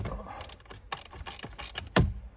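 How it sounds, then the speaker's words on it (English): A wrench ratchets on a 10mm bolt behind a 2022–2025 Honda Civic interior panel, a few short uneven bursts of clicking and mechanical scraping up close, with no voice over them. "so I'm gonna try this now with a wrench."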